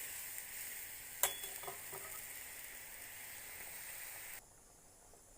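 Boiled jackfruit seeds stirred and fried in a hot pan, a steady soft sizzle with a couple of spoon scrapes and clinks near the start, quieter toward the end, no talking.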